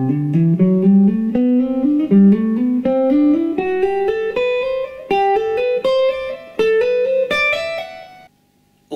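Electric guitar plays a rapid ascending shred lick of mirrored octaves in six-note groups, bright distorted notes climbing steadily in pitch and ending on a held note, loud and alone.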